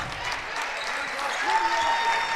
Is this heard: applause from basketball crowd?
yes